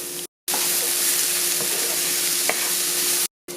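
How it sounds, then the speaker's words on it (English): Shallots fry in a hot pan, a loud, close, continuous sizzle with a few brief stirring scrapes, cut by two short gaps of silence. "I'm going to add my shallot, and I'm going to cook until it's golden brown."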